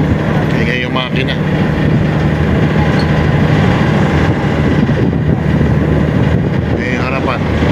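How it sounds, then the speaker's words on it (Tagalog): A ferry boat's engine on a crossing from Athens to Corfu Island, a steady, loud low drone that fills the whole stretch while people talk over it. "ingay yung makina."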